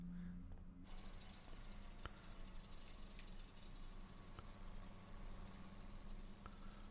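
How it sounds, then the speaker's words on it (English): An Airbus A320 engine spools up in Microsoft Flight Simulator, a faint, steady low hum and hiss with soft clicks, continuous and distant throughout. "I hear some engine starting up."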